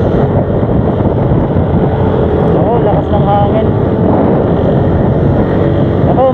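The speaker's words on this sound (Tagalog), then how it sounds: "Oo, lakas ng hangin." Strong wind roars steadily against the microphone during rain at a fiesta in Antipolo, with a voice speaking briefly over the buffeting.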